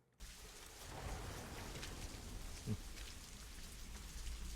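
Steady rain pours down in a House of the Dragon scene, a soft continuous hiss of falling water and drops with one low thud partway through, heard alone without voices.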